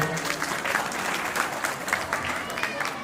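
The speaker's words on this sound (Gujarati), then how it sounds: "મિતભાઈને આપણે તાળીઓના ગડગડાટથી વધાવી લઈએ." Clapping from a family gathering audience at a prize giving, a steady, moderately loud patter of many hands that continues throughout, with a voice faintly underneath.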